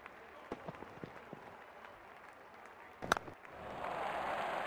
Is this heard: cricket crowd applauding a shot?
yes